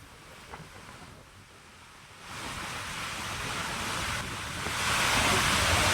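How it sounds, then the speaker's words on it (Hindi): Dam floodwater release with water rushing out of the sluices, a steady broadband roar that grows louder partway through and swells again near the end, loud and continuous with no voices. "बांध से पानी की निकासी की जा रही है, जिसकी तस्वीरें आप देख पा रहे हैं।"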